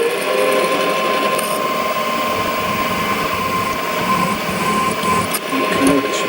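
Small drill boring a 5mm hole through a metal bar meant to hold a micro screwdriver shank, a steady close whine running the whole time with slight fluctuations near the end.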